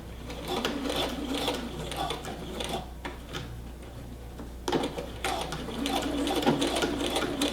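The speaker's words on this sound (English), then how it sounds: "When I get to the end here, I'm going to back stitch." A sewing machine back stitching a twill tape waistband, its needle mechanism whirring in fast steady chatter that runs throughout, briefly slowing at the reverse, with a person speaking softly underneath.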